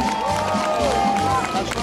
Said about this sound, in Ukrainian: Давайте підтримувати оплесками.